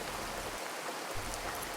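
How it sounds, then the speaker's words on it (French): Steady rain falls outdoors during a pilgrimage walking stage, a constant soft hiss with no voices. "Il pleut toujours."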